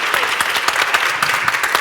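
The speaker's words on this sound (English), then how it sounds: "Can we get a round of applause for that excellent moderation?" A brief, dense round of audience applause at a workplace event on period-friendly policies, a steady close wash of many hands clapping for the moderator.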